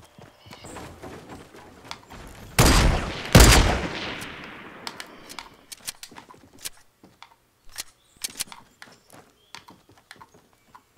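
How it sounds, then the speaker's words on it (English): Gunfire in the video game Fortnite: two loud bursts of shots up close, then scattered lighter cracks and clicks, with a little talk. "That was me that shot."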